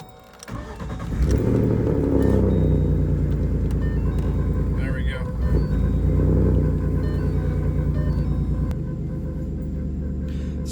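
A turbocharged 3.7-litre V6 Ford Mustang engine starts and settles into a loud, steady idle with a deep rumble, briefly blipping the throttle midway before easing to a lower hum.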